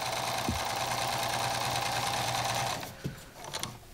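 A sewing machine runs steadily while masks are sewn, a close, continuous mechanical whir with a constant hum that stops near the end, followed by a couple of faint clicks and handling knocks.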